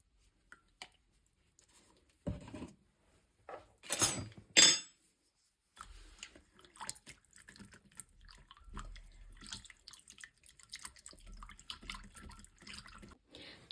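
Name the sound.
water being poured into flour for pizza dough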